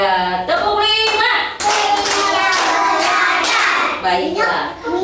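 In a classroom counting game, young pupils clap hands together, crisp bursts of claps mixed with children's chanting voices and an adult's speech.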